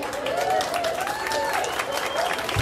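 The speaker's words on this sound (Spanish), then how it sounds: "Aplausos para Susan." Applause for Susan at her quinceañera party, a steady wash of clapping from a crowd running under a sustained musical tone and a host's voice.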